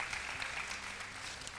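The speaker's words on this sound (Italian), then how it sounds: "Possiamo fare un applauso ad Angelica ovviamente" Applause for the winner Angelica at an equestrian show final: a brief, steady burst of crowd clapping heard from some distance, with a faint tonal hum underneath.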